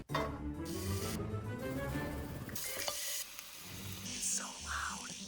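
A steak sizzles and fries in a pan on a portable stove, a steady close hiss of spitting fat that stays loud throughout, with faint shifting tones over it.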